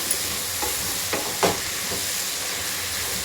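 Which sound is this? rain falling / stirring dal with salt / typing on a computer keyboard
stirring dal with salt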